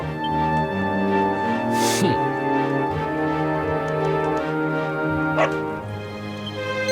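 Dog barking and whimpering in Dragon Quest XI, set against loud, continuous game music, with a few sharp yips rising briefly above the score.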